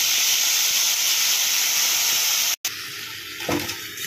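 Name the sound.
ginger, garlic, tomato and onion paste sizzling in hot oil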